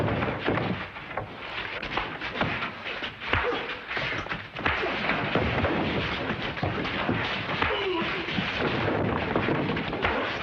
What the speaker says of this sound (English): All this shooting might bring the posse back.